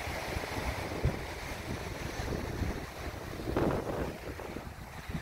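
Sea waves wash onto the shore at Lazarevskoye in Sochi while a steady wind buffets the microphone, with a slightly louder surge of surf midway and no voices.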